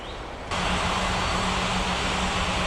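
Steady engine roar of an airliner taxiing in an air traffic control game, swelling abruptly to a loud, constant broadband drone with a low hum underneath, no talk.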